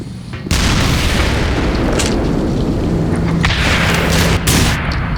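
Loud, sustained explosion from a TOW missile strike in the Black Mesa video game, with a sudden booming onset followed by a dense, roaring rumble and a couple of sharper bursts, no talking.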